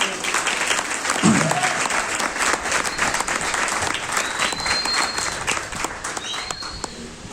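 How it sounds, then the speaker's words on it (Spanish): A church congregation applauds during a Sunday Spanish-language service, a steady wash of many hands clapping that carries on for several seconds with a few voices mixed in. "Den un fuerte aplauso al Señor."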